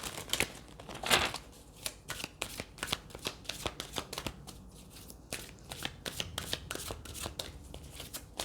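Tarot cards being shuffled by hand in a rapid series of crisp riffling, slapping bursts, close and fairly quiet, with no talk.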